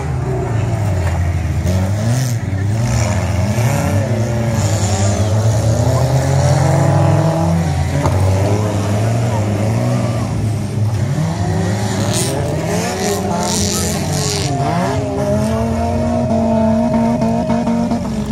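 Wreck race cars, including a Honda, racing at a 2019 wreck race event in Suchodół, Poland, with loud continuous engine roar, repeated revving and accelerating pitch sweeps, and cars passing close by throughout.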